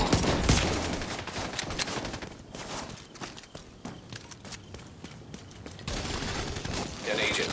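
Gunfire in The Division 2 during online player-versus-player play, rapid bursts of shots over several seconds with voices talking between them.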